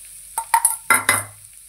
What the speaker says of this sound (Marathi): 1-2 मिनिटं नुसताच परतवायचंय